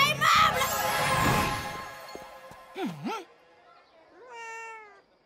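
A cartoon tiger turned into a cat lets out exaggerated meows after a burst of magical sound effects: a wobbling, swooping cry, then a shorter, higher meow fading out at the end.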